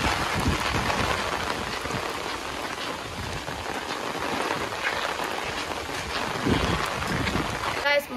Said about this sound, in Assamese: বৰষুণ, এই বৰষুণত মোৰ ছাতি একদম উৰাই লৈ যাওঁ কৰিছে বতাহে।